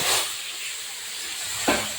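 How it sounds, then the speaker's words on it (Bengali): Chicken curry hits a hot pan and breaks into a loud, steamy hiss that fades to a steady sizzle. A short burst of fresh spitting comes near the end. "দেখুন আমি তরকারি দিয়ে দিয়েছি, তরকারিটা দেখুন কি সুন্দর ফুটছে"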